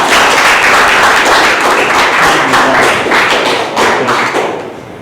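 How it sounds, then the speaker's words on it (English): Loud, dense applause from a room full of people at a Toastmasters club meeting, steady and sustained, tapering off slightly near the end. "Please welcome with big round of applause Toastmaster Abhishek"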